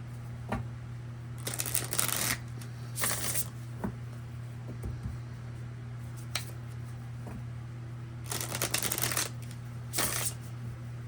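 Yin yang oracle card deck being shuffled in several quick papery bursts, separated by pauses, over a steady low hum in a quiet room.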